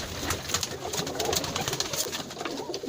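Pigeons coo steadily and close by in a loft of netted pigeon cages, including fancy breeds, with soft wing flutters and faint background noise around the calls.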